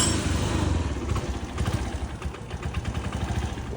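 A cheap scooter's small engine runs steadily at idle, with a continuous close, rough mechanical drone and a slight uneven rhythm, and no talk over it.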